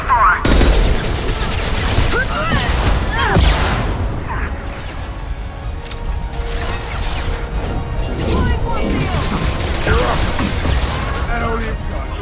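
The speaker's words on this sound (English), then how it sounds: "Firing concussion shot!" A concussion shot fired in Mass Effect Legendary Edition bursts amid loud combat blasts and crashes on the streets of Illium, with voices shouting over the chaotic firefight.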